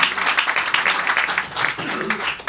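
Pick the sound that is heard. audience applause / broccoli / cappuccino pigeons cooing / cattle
audience applause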